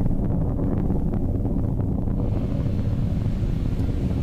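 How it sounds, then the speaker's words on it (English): SpaceX Falcon 9 rocket lifting off carrying the SES-12 communications satellite, heard as a continuous loud, deep roar with crackling rumble, steady throughout with no speech. "we've had successful liftoff of Falcon 9 as it carries SES-12 to geostationary transfer orbit"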